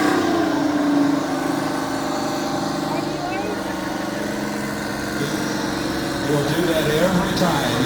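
A parade tractor fitted with a Detroit diesel engine runs at a steady idle, a continuous low droning hum with a slight rise near the end, while people talk over it at an outdoor show parade.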